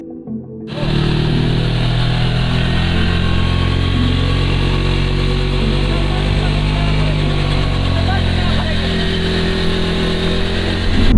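A loud motorcycle engine driving a water pump starts up and runs continuously at a steady drone, with a mechanical whine layered over it throughout.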